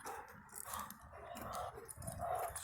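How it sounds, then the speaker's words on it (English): Akita dogs bark and growl in an agitated, scuffling way, fairly distant and muffled, with continuous indistinct noise and no clear speech. "these dogs are Akitas"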